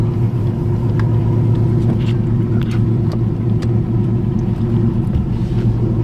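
A Chevrolet C10 truck on a gravel road, heard as a loud, steady low engine and road rumble from inside the cab, with faint crunching and rattles over it.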